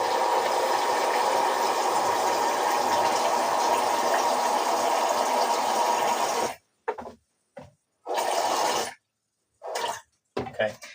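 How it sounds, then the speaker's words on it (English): Cold tap water pours steadily into an oat milk maker for several seconds, a continuous rushing fill, then cuts off, followed by a few short bursts of pouring separated by silence. "Okay, so I've just filled that up with some cold water"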